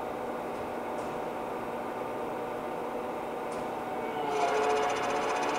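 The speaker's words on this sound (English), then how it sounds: "The spindle goes from 15 to 1550 RPM, and again, he's running at 150 right now." Spindle of a Lucas 4-inch table-type horizontal boring mill turning at 150 RPM, a steady mechanical hum with broadband whirring, growing a little louder with added high-pitched tonal whine near the end.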